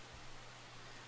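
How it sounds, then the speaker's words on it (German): Steady rain hiss in the Grim Tales 2 video game, a dense, even wash of noise that stays constant throughout with a low hum beneath and no speech. "Eyo, es regnet. Ich habe keinen Regenschirm."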